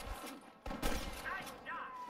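Sniper gunfire in the Red Dead Redemption video game: a few faint, distant shots and cracks inside a short, quiet stretch of game sound.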